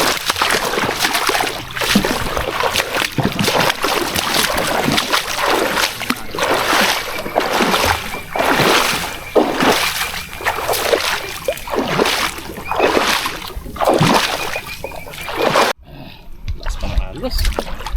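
Strong river water rushes and splashes continuously around a small boat, loud and close, with repeated sloshing surges while people talk over it.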